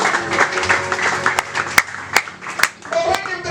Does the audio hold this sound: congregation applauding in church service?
yes